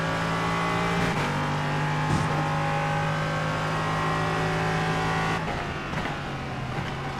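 A NASCAR race car engine in the iRacing simulator drones loudly at high revs in a sustained, steady whine, with brief shifts and a passing car near the end, and no talking.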